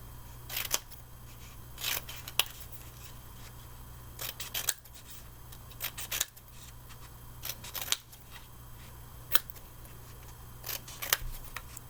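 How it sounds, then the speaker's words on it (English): Scissors snipping jagged strips of paper at a storytime craft table, close crisp cuts in irregular clusters of two or three with short pauses between, over a faint steady hum. "I'm going to cut some jaggedy strips"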